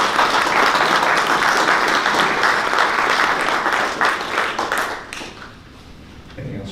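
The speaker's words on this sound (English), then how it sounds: "I think they deserve a big round of applause" Applause fills a city council chamber in Hermiston, many hands clapping densely for about five seconds before trailing off, followed by quiet room tone with a voice starting to speak.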